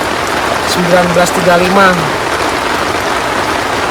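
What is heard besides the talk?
heavy rain at a campsite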